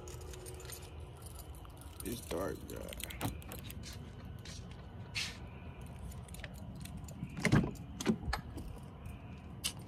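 Car keys jangle in short metallic bursts, near and fairly quiet, at night outside a damaged car, with someone talking over them.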